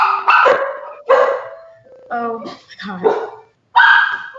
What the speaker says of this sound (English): Your dogs are going crazy